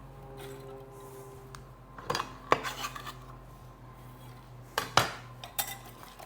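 A utensil clinks and scrapes against a bowl while stirring egg mixture with strips for a Tex-Mex breakfast casserole, giving a few scattered clatters over quiet background.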